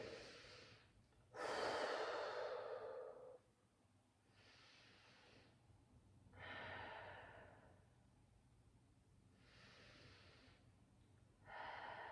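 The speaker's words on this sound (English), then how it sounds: "We're going to take 5 big breaths here." Big, slow breaths taken in an extended child's pose during a yoga-style strength and cardio flow, a series of airy inhales and exhales spaced a couple of seconds apart, close and fairly soft, with no talk.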